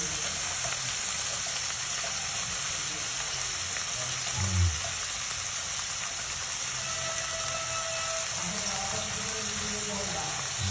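Corn tuna sisig with mayonnaise frying in a pan, a dense continuous hiss and sizzle with a few soft stirring scrapes, close and steady, no speech.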